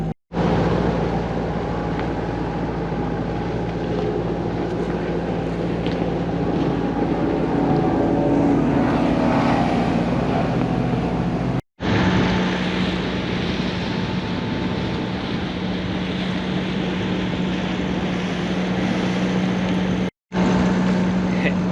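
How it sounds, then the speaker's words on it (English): A sailboat's engine revved right up while motorsailing upbound from Lake Erie to Lake Huron, a steady loud drone with a constant hum under wind and water noise, briefly cut twice. "Engine's revved right up,"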